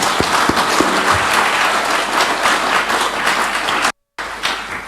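A church congregation at a closing Mass applauds with dense, steady clapping from many hands that fills the room. The sound briefly drops out near the end and then resumes.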